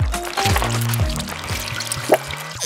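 A thick Nutella mixture is poured into plastic cups, giving a soft, continuous liquid pour with a small splash near the end, under steady background music.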